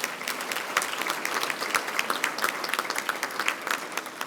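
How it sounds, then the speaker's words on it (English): A room of guests at an award ceremony claps steadily, a moderately loud, even patter of many hands with scattered sharper claps and no talk. "Let's give them one more round of applause."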